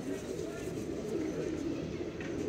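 A pair of pigeons cooing softly and continuously nearby, a low murmuring coo under a man's speech.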